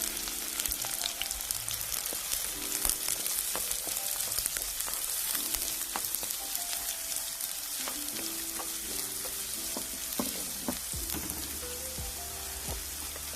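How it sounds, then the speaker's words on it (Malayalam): Onions fry in hot coconut oil with mustard seeds for a Kerala-style prawn roast, a dense, continuous close sizzle with light crackles and occasional stirring scrapes and clinks, with no voices. "എണ്ണ ചൂടായിട്ടുണ്ട്, കടുക് ഇട്ട് കൊടുക്കാം. അതിലേക്ക് സവോള ചേർക്കാം."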